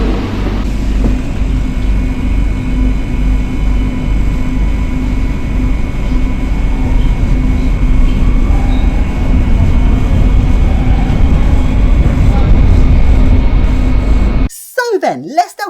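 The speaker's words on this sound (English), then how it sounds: "This is Metro Line 12." A Barcelona Metro Line 12 shuttle train gives off a loud, steady electric hum and low rumble that holds for about fourteen seconds before cutting off abruptly.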